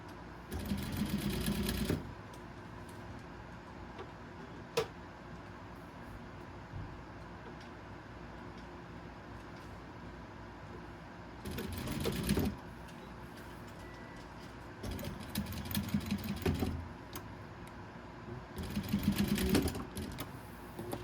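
Sewing machine stitching a seam on a minky fabric cow stuffy, starting and stopping in four short bursts with quiet pauses between them.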